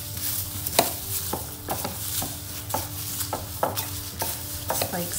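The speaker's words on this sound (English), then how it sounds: "Now just mix that in. Continue to mix it." Bath salts with about twelve drops of essential oil being mixed in a container: repeated gritty scraping strokes in a steady rhythm over a grainy hiss, close and unaccompanied by talk.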